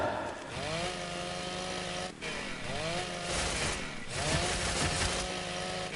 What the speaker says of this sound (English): can I even use the chainsaw on you?